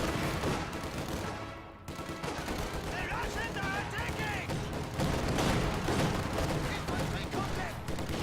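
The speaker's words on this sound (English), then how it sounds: "Autocannon trying to destroy this green cover position." Autocannon fire in a video game battle, sounding as dense, continuous rapid shots and booms layered with other weapons, loud throughout with voices talking amid the fighting.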